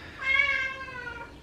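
A house cat lets out a single clear, rising-then-falling meow close by in a quiet room, about a second long, with no talking over it.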